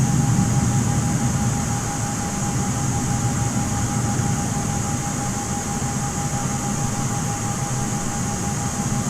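An aircraft taxis in Microsoft Flight Simulator with a steady, even jet engine whine and low rumble that holds for the full length, with no talking over it.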